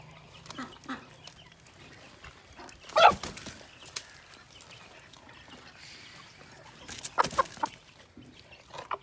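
An Aseel hen clucks in short, faint calls in a farmyard, with a couple of louder fowl calls standing out against a quiet background.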